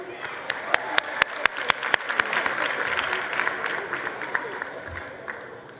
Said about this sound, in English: A round of applause for Tabiseng.